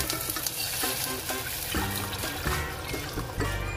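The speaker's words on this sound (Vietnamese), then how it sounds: "Mình cho thêm nước vào nha" Water poured into a cooking pot for spicy Korean tteokbokki, a steady splashing, bubbling pour with stirring clinks over a loud, constant kitchen hiss.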